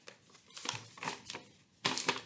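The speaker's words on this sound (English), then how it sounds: "Now, can you open up your piece of paper?" A folded piece of paper is opened up close by, giving a few crisp crinkles and rustles in short bursts, with the loudest crackle near the end.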